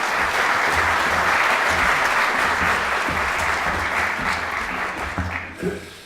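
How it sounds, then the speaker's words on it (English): A warm round of applause from a lecture audience greets a professor taking the floor, dense clapping from many hands, loud and steady before gradually thinning toward the end. "with a warm round of applause, I invite Professor van der Wallen to take the floor"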